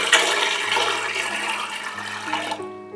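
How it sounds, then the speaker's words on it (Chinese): Water rushes steadily for about two and a half seconds as it is poured into a tall cooking pot fitted with a steaming rack, then stops, leaving a faint ringing tone. "首先，准备一个比较高的锅子，放入蒸架，加入足够的水。"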